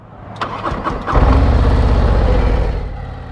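A 2024 Harley-Davidson Road Glide motorcycle engine cranks with a few rapid chugs, then catches and settles into a loud, steady, deep idle close by.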